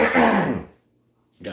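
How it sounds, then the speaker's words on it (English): A person clears their throat once in a short, close, gravelly rasp, followed by silence and a brief breath at the end. "Gotta clear my throat."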